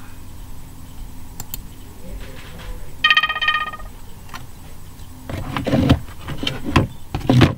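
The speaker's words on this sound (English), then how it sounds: "My phone just went off." A mobile phone rings briefly in the middle, a short burst of bright electronic tones over soft background noise, followed by louder clattering and rustling handling sounds.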